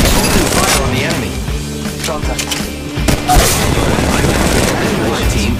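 Gunfire in Apex Legends Mobile, with rapid shots and bursts over a busy, loud game mix, and a voice talking briefly over the fighting.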